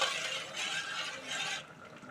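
Water being poured into a pot of bottle gourd dal made with cooked, ground lentils, a steady splashing pour that runs for about a second and a half and then eases off.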